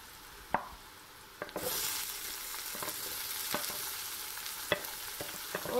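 Onions sizzle in a hot pan for masala bhindi, a steady frying hiss broken by several sharp clicks and scrapes of stirring, close and fairly quiet, with no talk.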